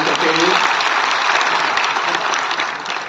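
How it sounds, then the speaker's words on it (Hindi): Applause from the audience at a Maharishi Valmiki Jayanti ceremony in Panchkula, a thick continuous wash of many hands clapping at an even, loud level throughout, with some voices beneath. "आप लोगों की तालियां रुकनी नहीं चाहिए"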